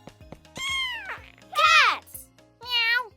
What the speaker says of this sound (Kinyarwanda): Murumva iryo ari ijwi ry'injangwe?